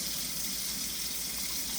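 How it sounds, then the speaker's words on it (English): Cold water runs steadily from a kitchen tap into a sink as a soft, even hiss that stays constant throughout, with no voices. "And let the water run, make sure it's going to be cold"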